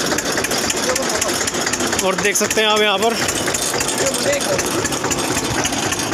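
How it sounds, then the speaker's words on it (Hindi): An Eicher 241 tractor in clean running condition runs steadily beside a canal, powering an improvised irrigation setup. Its loud, constant engine drone carries throughout, with a brief rattling mechanical burst midway, under someone talking. "यहाँ पर ट्रैक्टर काम कर रहा है देख सकते हैं आप यहाँ पर ट्रैक्टर आइसर दो सौ इकतालीस है"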